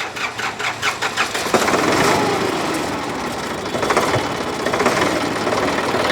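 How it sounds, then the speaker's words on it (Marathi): A self-start tractor cranking with a rapid chugging starter rhythm, then catching and roaring into a loud, steady idle up close, with no talking. "एकदा चालू करून दाखवतो"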